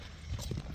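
A horse's hooves clip-clop as it is walked on a lead, giving a few faint, close hoof thuds within a brief stretch of rough outdoor noise.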